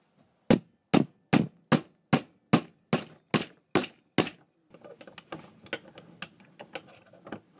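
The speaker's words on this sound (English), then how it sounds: "Now come on to it with the hammer." Hammer strikes on heated metal bending a spear hook, a steady run of about eleven sharp, loud, evenly spaced blows followed by a quicker, lighter flurry of taps, close and without talk.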